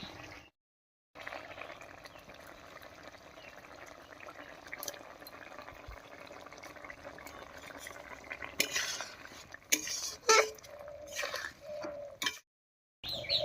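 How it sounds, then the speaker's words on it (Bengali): A spoon stirs a vegetarian shola taro curry in a pot after sugar and garam masala go in. Scraping, clinking strokes run over a low simmering sizzle, growing louder and choppier near the end with a couple of short silent breaks. "চিনি আর গরম মশলা দিয়ে নাড়িয়ে নিয়েছি"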